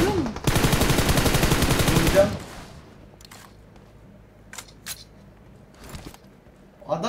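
Rapid automatic gunfire in the PUBG Mobile battle royale game, a loud sustained burst of about two seconds, then quieter scattered single shots and faint background activity.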